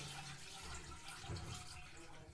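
Liquid pours steadily into a container for fermenting yoghurt, a continuous faint watery rush with no talk.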